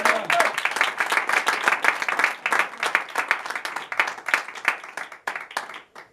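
A church congregation applauds together, a dense, steady patter of many hands clapping close by that runs throughout and thins slightly near the end.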